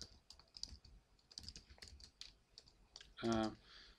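Quiet, scattered keystrokes of someone typing a short command on a computer keyboard, light irregular clicks with a brief louder burst of noise near the end.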